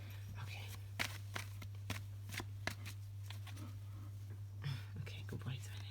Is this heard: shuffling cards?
yes